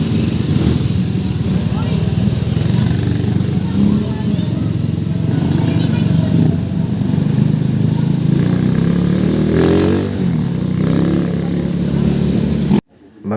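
A group of five motorcycles sets off together on a long ride, engines droning and revving close by under continuous talk, the rumble holding steady before cutting off abruptly at the end.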